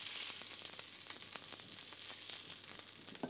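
Duck breast and pear skewers frying in a pan, a steady close sizzle with dense crackling and spitting fat throughout, no voices.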